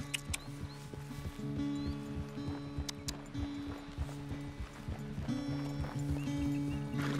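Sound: horse hooves while riding in a video game

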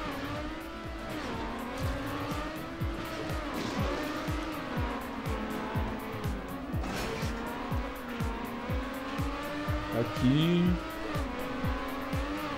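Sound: race car driving in video game TrackMania

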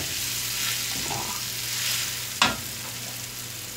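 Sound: stirring tiwul fried rice in a frying pan

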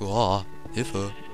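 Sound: sheep bleating in the video game Minecraft

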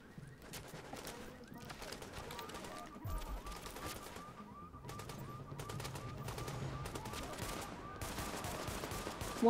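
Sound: pistol gunfire in video game The Division

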